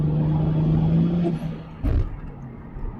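A Toyota Supra's engine revs briefly, a close, fairly loud tone that rises and then drops away, followed by a short low thump before it quiets.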